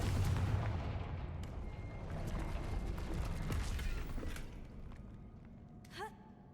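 A Confringo blasting spell explodes in the video game Hogwarts Legacy, a dense rumbling burst with crackling debris that slowly decays, followed near the end by a brief rising magical chime.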